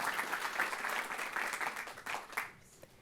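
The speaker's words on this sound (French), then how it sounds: "sous vos applaudissements" Audience applause in a lecture hall at a science talk on genomes, sustained dense clapping from many people that fades out near the end.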